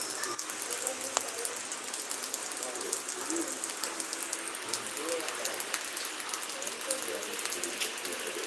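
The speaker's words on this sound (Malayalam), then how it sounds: "മഴ പെയ്യുന്നു." Light rain falls around a house garden in Kollam, heard as a fine, constant hiss dotted with small ticks and drips, moderately faint and steady throughout.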